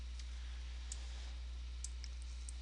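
A computer mouse gives a few faint, sparse clicks, about five light ticks spread out over a near-silent room with a low steady hum underneath.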